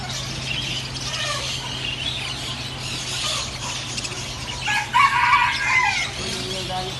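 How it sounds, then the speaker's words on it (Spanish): A rooster crows and clucks among birds at a flea market, fairly close over a constant low hum and busy background chatter. "Oye, el gallo por ahí."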